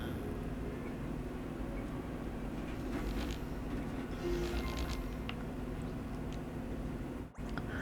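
Steady rumble and clatter of a train running through the dining car in the video game Paper Mario: The Thousand-Year Door, a continuous mid-level drone alone with no voices.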